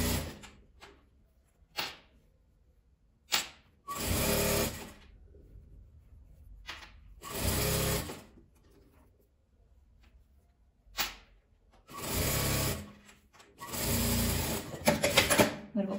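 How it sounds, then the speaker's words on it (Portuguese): A sewing machine stitches a denim strap made from old jeans. It runs in several close, rattling bursts of varying length, separated by quiet gaps, and a voice can be heard talking faintly between them. "E vou vir costurando, fechando a minha alcinha."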